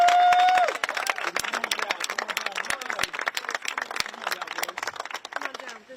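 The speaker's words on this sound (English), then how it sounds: "One more round of applause for the Reverend." Outdoor crowd on the Capitol Hill steps at a sit-in claps and cheers for Reverend Barber, a dense burst of many hands after a brief held tone at the start, with voices mixed in throughout.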